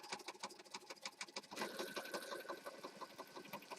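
A sewing machine stitching along a folded paper journal page, running in a steady rapid mechanical chatter throughout at moderate, close level with no talking.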